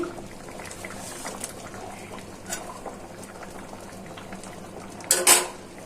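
A pot of red lentil dal with ash gourd and green chilies simmers on the stove, soft steady bubbling, with a sharp clatter of utensils against the pot near the end.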